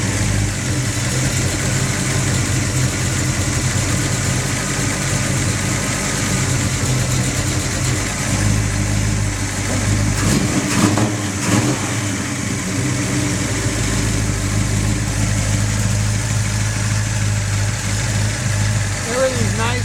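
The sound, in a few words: 1967 Chevelle SS 396 engine started and revving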